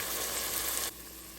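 Tomatoes sizzle and fry steadily in a pan over medium gas heat, a dense close hiss that drops abruptly to a softer simmer partway through.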